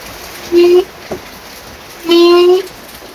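Two short reedy honking tones, the second longer, with a tiny click between them, made by air blown through a Kawasaki Ninja 150 reed valve membrane, close up with no one talking.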